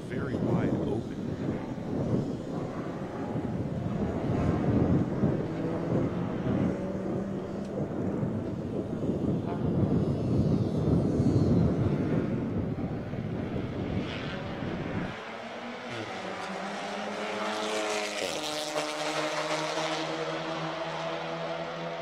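A TC America BMW race car powers up the front straight at Circuit of the Americas, a loud, sustained engine roar that holds steady and then shifts into a rising, tonal whine as it passes.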